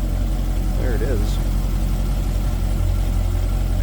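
A 2024 Chevrolet Corvette Stingray 3LT's mid-mounted engine idles steadily with the engine bay open, a loud continuous low rumble with a brief higher chirp.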